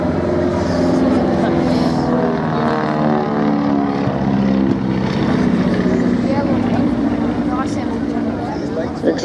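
A Twin Beech propeller plane drones past at an air display with a steady pulsing throb, loud and close, under continuous spoken commentary.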